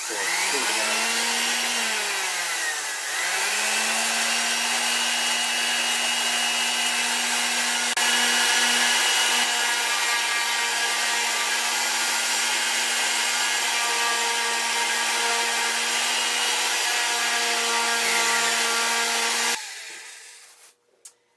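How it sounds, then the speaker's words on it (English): Power sander with 600 grit wet-dry sandpaper working a flat cast aluminum trailer hinge, a loud steady whir running nonstop for about twenty seconds before it winds down and stops. "I've got it loaded with 600 grit wet dry sandpaper. This works really good on these flat surfaces."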